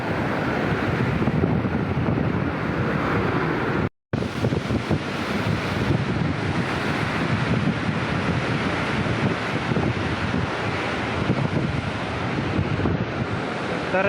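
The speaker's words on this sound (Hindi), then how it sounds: "कितनी स्पीड है पानी गुजर रहा है" Loud, continuous rushing river water roars throughout at Head Panjnad, with heavy wind buffeting the microphone and a momentary cutout near the start.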